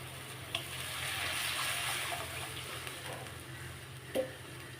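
Water poured into a simmering tamarind mixture for sesame pulikachal gives a soft, steady hiss and bubbling, with a couple of faint clinks and no voices.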